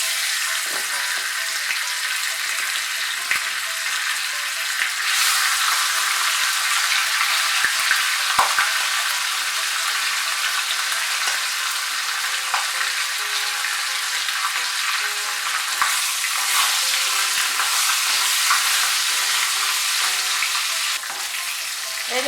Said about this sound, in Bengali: এর মধ্যে নুন হলুদ দিয়ে মেখে মাছের মুড়োটাকে আমি এখন ভেজে নেব।